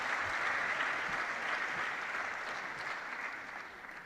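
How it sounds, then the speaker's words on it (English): An audience at a staff retreat and awards ceremony gives a steady round of applause to welcome a guest. The clapping is moderate and fairly distant and slowly fades toward the end. "give him a round of applause"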